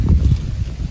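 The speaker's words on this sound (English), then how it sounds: "you just have to be really careful of the wind" Outdoor wind rumbles against the microphone in low, uneven gusts for a full second beside coconut trees, with no one talking.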